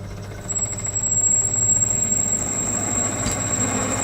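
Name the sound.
lathe running in a workshop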